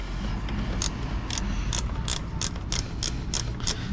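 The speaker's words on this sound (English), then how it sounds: "Now let's get that wrench and tighten it down." A ratchet wrench clicks steadily as it tightens a fuel filter housing on an Isuzu NPR/NRR truck, with an even run of sharp ratcheting ticks over a constant mechanical background hum, close up and without speech.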